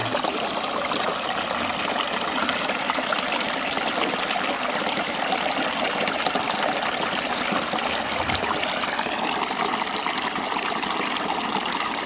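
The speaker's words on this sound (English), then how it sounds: "But this new system seems to be pulling water quite nicely." Water rushes continuously through a Coanda screen intake on a wooden micro hydro manifold. The even, dense flow is close and steady throughout, with no talking.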